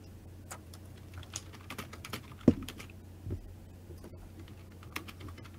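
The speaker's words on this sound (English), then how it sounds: "Look, I can't help my typing speed." Keys clatter on a computer keyboard during an online tabletop role-playing session, scattered quick taps and a sharper hit over a low hum, fairly faint and with no talk.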